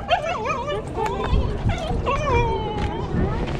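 A dog on a street in Toronto's Distillery District gives a few short yips and whimpers close by, mixed into nearby conversation and background city chatter.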